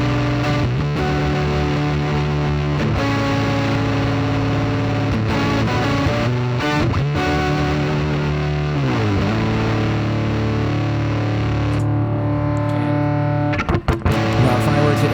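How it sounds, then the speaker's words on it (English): An electric guitar runs through a fuzz effect on a Quad Cortex and plays sustained, thick, distorted chords and notes, loud and continuous. "if I add the fuzz into that, it really beefs up the signal."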